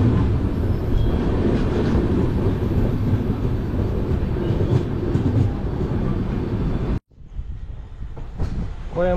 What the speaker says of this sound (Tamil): கன்னியாகுமரி புனே எக்ஸ்பிரஸ்.